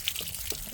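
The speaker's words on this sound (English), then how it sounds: "we'll just let this drain out. It's coming out fairly clean" Water drains out of a Jayco caravan hot water system after an anode replacement, a close, steady trickle and splash with a few bright drips throughout the short stretch.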